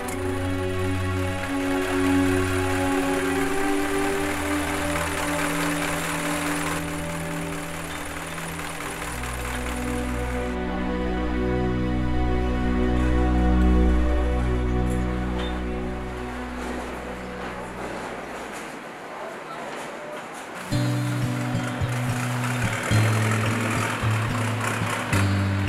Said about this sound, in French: une barque équipée d'une hélice fixée à une tige métallique, elle-même reliée à un moteur de camion